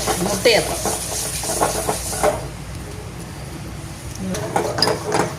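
Appam batter stirred in a pot in a Jaffna kitchen, scraping and clinking of a utensil against metal with hissing texture, brief pause midway, voices talking nearby.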